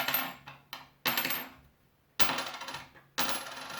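Copper coin, apparently an Indian head cent, dropped and bouncing with bright metallic clinks, several separate strikes and short rattles spaced across a few seconds, close and clear.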